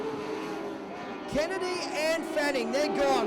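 Lightning sprint race cars battle in a heat race at a dirt track, several engines droning and whining as they pass, with revs rising and falling under continuous excited commentary.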